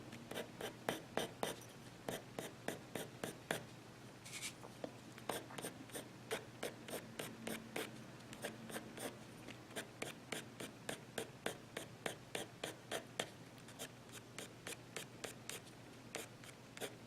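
Colored pencil layering tiger fur on paper, a quiet, close series of rapid scratchy strokes in steady rhythmic bursts, with no talk.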